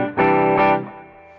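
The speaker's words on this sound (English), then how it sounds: "The second channel is a hand-wired JCM 800 with a boost on it with reverb." An electric guitar plays through a hand-wired JCM 800 channel with a boost and reverb, two loud distorted chords struck in quick succession, then ringing out with a reverb tail.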